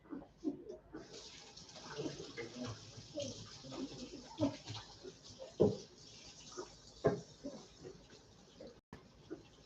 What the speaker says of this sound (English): I'm going to go wash my hands real quick